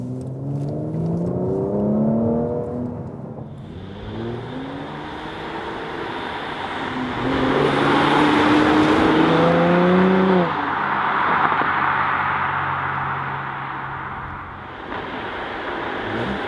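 A 2016 Mercedes C450 AMG V6 heard from inside while driving, the engine rising and falling in pitch through several gear changes as it accelerates, with loud wind and road roar swelling in between and no talking.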